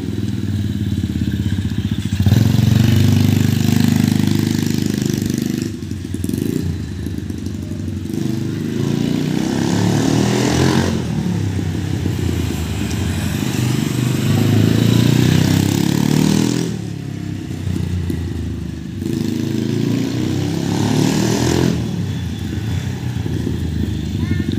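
A mini trail motorcycle engine runs steadily with a low rumble that swells and dips, beneath near-constant talking.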